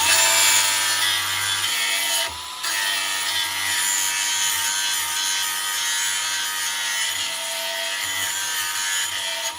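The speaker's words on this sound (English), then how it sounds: "I'm just using the buffing wheel" Buffing wheel sharpening metal blades, a loud continuous abrasive rushing hiss with a momentary dip in the middle and otherwise constant, close-up grinding texture.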